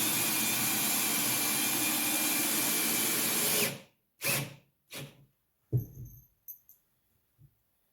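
A power drill whirs steadily and loudly for several seconds while driving a screw into wood, then stops; a few short, sharp knocks and clatters follow in the quiet.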